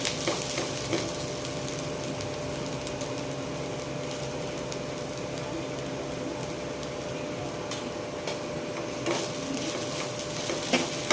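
Ivy gourd pieces sizzle in a pan while being stirred with chili powder, a steady frying hiss with scraping stir noises recurring throughout.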